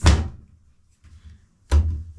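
A washing machine door being swung shut at home: two loud, close, heavy thuds about a second and a half apart, with a softer rattle between them.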